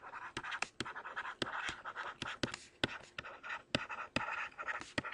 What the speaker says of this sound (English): I'll write that out